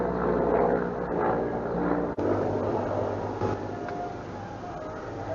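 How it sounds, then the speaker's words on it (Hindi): A helicopter passes overhead outdoors, giving a steady, fairly loud broadband drone that holds for several seconds with no talking. "ये कुछ जा रहा है, हेलीकॉप्टर जा रहा है"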